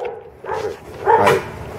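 A dog at an outdoor training session gives two short barks about half a second apart, close and fairly loud, with other dogs around and no talking.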